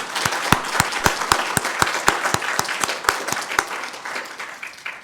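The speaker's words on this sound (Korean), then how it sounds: "우리 창현 형제 잘 감당하라고 우리 한번 응원하는 마음으로 박수하겠습니다" A church congregation applauds together in a Sunday worship service, sending off Brother Changhyun with steady, evenly spaced rhythmic claps that soften toward the end, fairly close and clear with no talking.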